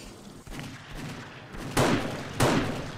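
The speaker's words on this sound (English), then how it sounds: "Both explode." Two heavy explosions in the survival game 7 Days to Die, about half a second apart, each a loud broadband boom with a rumbling tail, over a low steady background with no talking.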